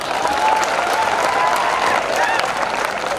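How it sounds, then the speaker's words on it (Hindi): A large crowd applauds steadily, a dense wash of clapping that holds at an even level throughout, with some voices mixed in. "बजाओ तालियां अपने"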